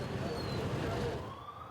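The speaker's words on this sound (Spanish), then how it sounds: "Escuchamos sirenas a esta hora, también motorizados que vigilan esta zona del parque" Police vehicle sirens wail through a city street beside a park, a steady wash of traffic and crowd noise with faint siren tones drifting over it and fading toward the end.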